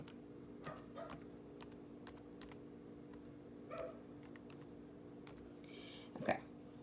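Password being entered on a Chromebook keyboard, a few scattered, fairly quiet key clicks spaced out over several seconds against a steady hum, with no talk.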